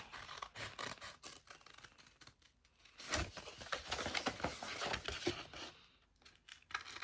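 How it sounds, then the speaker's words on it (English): Scissors cut out pieces of a diamond art kit, an autumn day fox design, with faint close snips and crinkling paper rustles in irregular bursts and no talk. "first thing I'm going to do is I'm just going to go ahead and cut these out"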